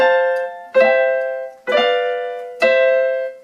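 Piano chords, struck four times in a steady sequence, each chord ringing full and slowly fading before the next, played alone and close with no talking.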